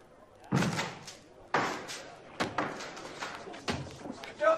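A door is repeatedly smashed in as an audiobook sound effect: four or five heavy, loud slams and thuds at irregular intervals, each followed by a short rattle.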